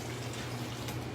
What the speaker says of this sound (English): And some water.